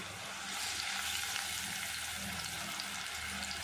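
Fish frying in oil in a pan for fish curry, giving a steady, close hiss and crackle that runs unbroken with no talk over it.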